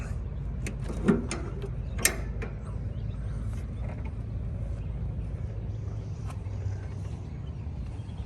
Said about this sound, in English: let's open the tire carrier up